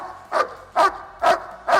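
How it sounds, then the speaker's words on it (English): A dog barks four times in a steady rhythm, each bark loud and close, with short pauses between. "You see that barking for the food"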